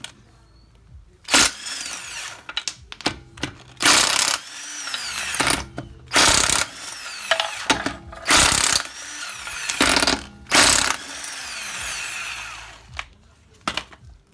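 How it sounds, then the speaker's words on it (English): A socket ratchet loosens wheel bolts on a BMW E60-series car using a 17 mm socket, with repeated loud bursts of clicking and whirring separated by short pauses, close to the listener. "to remove the wheel, it's going to be a 17mm socket."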